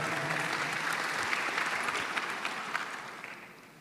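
Audience applause at a ministerial speech before young civil-service cadets fills the hall, dense clapping with scattered sharper claps that gradually tapers off toward the end.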